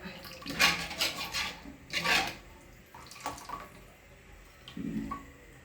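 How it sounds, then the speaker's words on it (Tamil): Lime pickle mixture bubbling and boiling in a pot, with bursts of gurgling and splashing that rise and fade, fairly close. "இங்கே பாருங்கள் இப்போ நல்லாவே கொதிக்குது"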